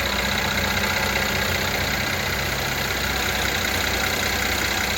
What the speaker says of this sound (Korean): 엔진 소리도 괜찮습니다.